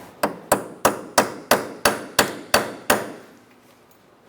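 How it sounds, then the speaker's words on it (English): A rusty rear sway bar link on a 2004-2009 Mazda 3 being tapped into place with a hammer: nine sharp, evenly spaced metallic knocks, close and fairly loud, each fading quickly, followed by quiet. "Ours is a little rusty, so we're going to tap it in there."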